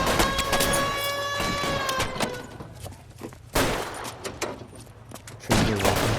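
Gunfire from the L.A. Noire video game rings out in loud, rapid bursts and single shots with echoing reports, interrupted by brief pauses.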